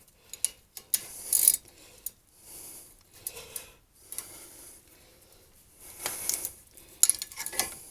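A loose wheel nut spinning freely on a Honda CR-V during a front brake pad change, giving intermittent metallic clicks and ratcheting rattles in short bursts, close and fairly quiet, with no voice.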